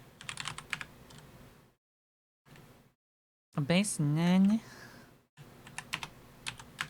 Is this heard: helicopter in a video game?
no